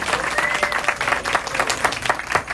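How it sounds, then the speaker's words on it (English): A crowd at a Fountain Valley gathering breaks into steady, dense applause welcoming an arriving guest, many hands clapping close and loud in a continuous patter with faint crowd noise underneath. "let's give Onyx Coale a really warm round of applause coming out of Florida"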